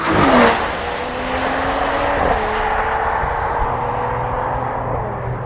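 A Mercedes-AMG CLE 53 coupe on the move, its engine note rising and falling over steady road and wind noise, with a brief louder swell near the start.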